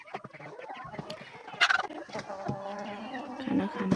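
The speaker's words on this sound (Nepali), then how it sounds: "फुल पार्ने कुखुराहरू छ" Egg-laying hens in a flock of about forty to fifty chickens clucking and squawking together at close range, with busy overlapping calls and a sharper burst midway.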